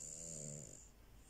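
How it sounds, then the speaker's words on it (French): A small pet dog snoring while asleep after a meal, close and soft, with steady raspy rhythmic breaths that fade partway through; no talking. "Il y a un petit truc qui ronfle à côté de moi, c'est mon chien."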